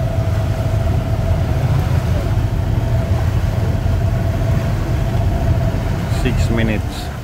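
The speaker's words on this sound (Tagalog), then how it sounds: "Suzuki yung makina nito po. Dalawang makina." Twin Suzuki outboard engines on a speedboat run at sea, a steady loud low drone with a humming tone throughout, easing slightly near the end.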